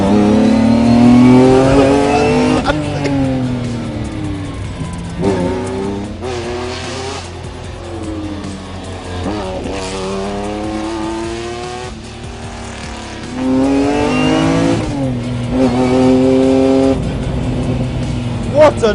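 A high-revving rally car engine of about 270 horsepower roars loudly on a San Remo rally stage, its pitch climbing and dropping through repeated gear changes and throttle lifts, close and continuous.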